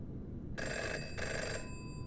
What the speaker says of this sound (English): The phone, it's ringing!